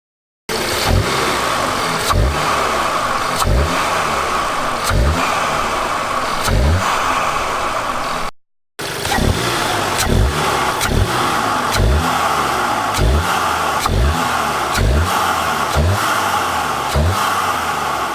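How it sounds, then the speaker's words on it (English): A VW Golf MK7 fitted with a K&N aftermarket intake filter revs repeatedly, its engine climbing and dropping in steady rhythmic bursts with pronounced induction noise, loud and close, no voices, with a brief break midway. "Stay tuned for maybe some induction noises."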